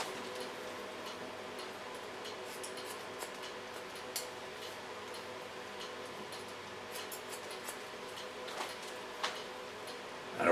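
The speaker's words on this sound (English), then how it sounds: "I really like the sound of scissors." Faint, crisp snips of scissors cutting short hair into a pixie cut, irregular and close, with small clicks scattered over a quiet background.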